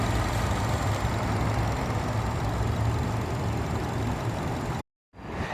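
A 2016 Nissan Rogue S runs at idle after a cold start, giving a steady, fairly quiet low hum with a broadband hiss that holds even throughout, then cuts out briefly near the end.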